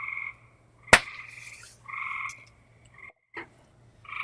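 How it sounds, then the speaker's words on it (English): Frogs call at night in short pulsed trilling bursts separated by silent gaps, one caller close and clear, with a single sharp crack near the start and no voices. "And as you can hear, the frogs started chirping."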